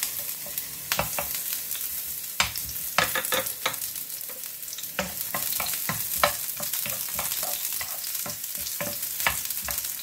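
Onions hit a hot pan and fry with a dense, continuous crackling sizzle, frequent pops and spatters scattered through it, close and loud with no voices.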